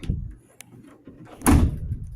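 The hatchback of a C5 Corvette is shut, giving one solid slam after a few softer handling clunks and rattles, fairly close.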